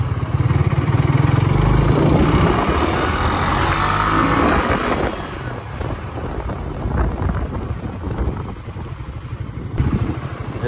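Premium motorcycle fitted with RCB parts, a loud close engine drone while riding, mixed with strong wind buffeting that eases slightly partway through.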